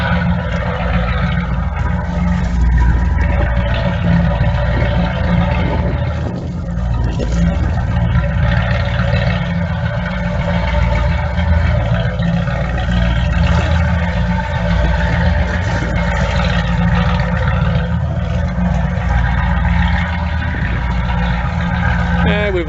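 Boat engines idling alongside a running generator while pumping water, a loud continuous mechanical drone that holds steady from start to finish with faint voices mixed in.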